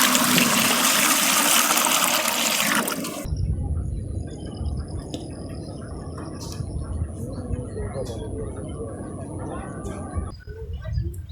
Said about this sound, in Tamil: இப்போ வந்து 1 கிலோ ரவா கேசரிக்கு 3 லிட்டர் தண்ணி சேர்த்துக்கலாம்.